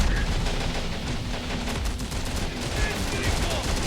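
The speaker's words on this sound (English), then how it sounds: "We're taking fire." Gunfire in a military shooter video game, dense and continuous, with rapid overlapping shots and loud, steady battle noise filling the whole stretch, and voices faintly mixed in.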